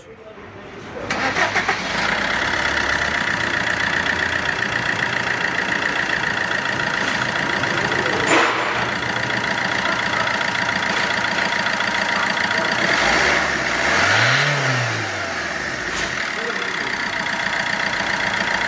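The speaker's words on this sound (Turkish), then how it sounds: "Araca marş yapıyoruz." A Fiat Linea 1.3 Multijet diesel engine cranks and catches, then settles into a steady, close idle that runs on and on, with brief faint sounds from the surroundings.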